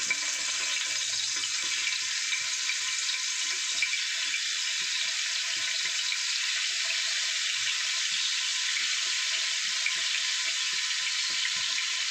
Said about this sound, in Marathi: आता याला आपण फ्राय करूया.